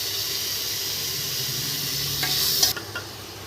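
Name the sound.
tomatoes added and stirred into frying chicken kulambu masala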